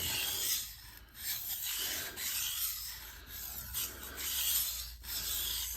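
Steady rasping scrapes of a knife blade sliding back and forth across a Naniwa Chosera 600 grit whetstone, rhythmic strokes repeating closely with no voices.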